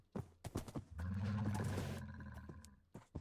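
A Minecraft donkey brays, a drawn-out, harsh, braying call with a strong pitched drone, preceded and followed by a few short clopping or knocking sounds, close and fairly loud with no talk.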